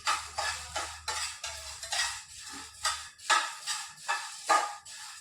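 Green cardamom pods dry-roasted in a pan, stirred with a utensil: a steady series of scraping, rattling strokes roughly every half second, close and moderately loud, with no talking.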